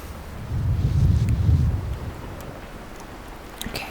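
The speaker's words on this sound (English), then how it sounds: "Okay, it's super windy." Strong wind roars through the wintry wilderness of The Long Dark, a loud low rumbling gust that swells early and then eases into a steadier blow.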